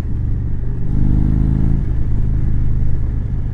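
A 2019 Indian Chieftain motorcycle with Stage II cams and a Bearded Bobber exhaust riding along, a loud, deep, steady engine rumble that swells briefly as the throttle opens, heard up close without speech.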